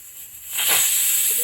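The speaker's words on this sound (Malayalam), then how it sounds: "നമ്മുടെ കുക്കർ ഒന്ന് അടിച്ചു." A pressure cooker cooking biryani lets off its whistle: a quiet start, then a sudden loud, bright hiss of escaping steam that rises at about the midpoint and holds steady to the end.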